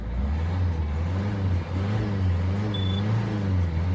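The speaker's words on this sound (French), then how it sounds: "Et là, la voiture elle démarre nickel." A Citroën C4 Picasso with an economy-mode problem idles steadily after starting, a low, even engine hum with a slight wavering pulse, close and fairly loud with no talk over it.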